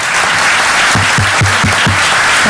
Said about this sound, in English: once again give all of our teachers a round of applause.